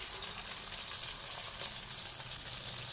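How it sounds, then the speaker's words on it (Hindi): Onions browning in hot oil in a pan, a soft, steady crackling sizzle with faint pops, continuous and close but quiet throughout. "ये हमारी प्याज ब्राउन हो रही है।"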